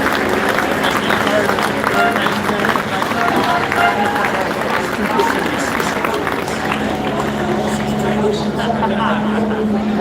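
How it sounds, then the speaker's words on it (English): Dense crowd noise at a Silverstone MotoGP race, a loud continuous roar of cheering and applause with a steady engine-like drone underneath, no clear individual voices standing out. "As you can hear, the crowd's going wild now"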